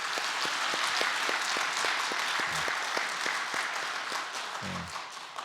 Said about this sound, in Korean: 우리 다음 세대 함께한 아이들 위해서 크게 박수 한번 하겠습니다.